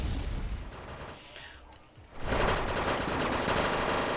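Anti-aircraft guns fire in a Wargame: AirLand Battle match, with dense rapid bursts of gunfire that dip briefly into a quieter lull before a loud, sustained barrage resumes.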